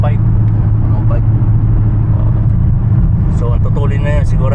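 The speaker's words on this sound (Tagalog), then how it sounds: "Ganito ka busy yung kalsada guys." Cars rush past on a busy highway near Tangiers at around 100 to 120 km/h, producing a loud, continuous roar of traffic. A voice speaks over the steady traffic.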